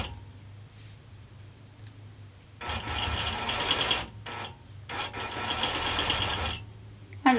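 Nolting Pro longarm quilting machine stitching over couched yarn, running in two loud sustained bursts with a brief pause between them, after a quiet stretch of low hum.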